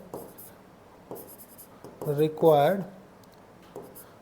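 Marker or chalk writing on a board during a Class 11 maths crash-course lecture on complex numbers: short scratchy strokes tap and slide in quick bursts while a teacher speaks.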